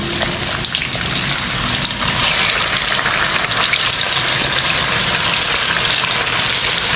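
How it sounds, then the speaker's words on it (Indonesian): Loud, dense sizzling and crackling of chicken frying in hot oil, a constant bubbling hiss throughout with no voices. "Goreng ayam."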